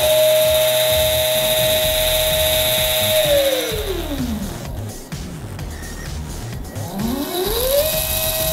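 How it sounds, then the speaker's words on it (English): An electric motor run through a SmartDriveDuo-30 driver whines steadily, then winds down to a stop and spins back up again, its pitch falling and rising clearly with no voices over it. "Right and left turn will move the motor to clockwise and counterclockwise direction."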